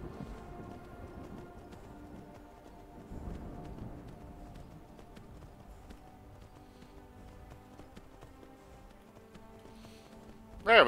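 Horse hooves in Skyrim beat out a steady galloping rhythm, faint and even across the stretch, with a sharper sound at the very end.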